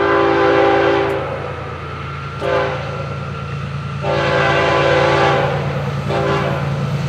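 A loud train horn blares in long sustained blasts, broken by short pauses, over the steady rumble of passing Florida East Coast train 101.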